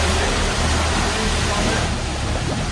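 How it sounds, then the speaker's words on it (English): A submerged Ultraviolette F77 Mach 2 electric motorcycle fills with water, producing a dense, steady rushing and gurgling wash that stays loud and even throughout. "So that's just the motorcycle filling up, right, with water?"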